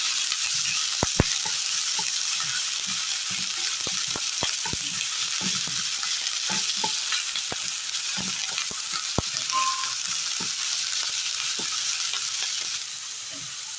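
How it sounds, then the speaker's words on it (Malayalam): Chopped yam leaves and onion sizzle steadily in a hot pan for a Kerala curry, a continuous close frying hiss punctuated by regular scraping stirs and a few sharp spoon taps. "ചേനയുടെ ഇല ഇട്ട് കൊടുത്തതിന് ശേഷം നന്നായി ഒന്ന് വഴറ്റിയെടുക്കാം"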